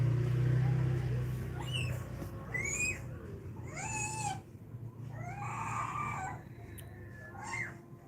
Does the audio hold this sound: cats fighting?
yes